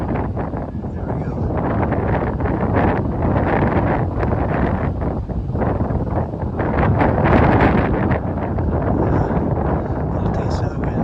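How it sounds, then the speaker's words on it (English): Strong, steady wind buffets the microphone on an Appalachian Trail thru-hike, a loud continuous broadband roar with gusts swelling and easing throughout, no distinct voices standing out. "Play a little of the wind. It's been super windy all day today."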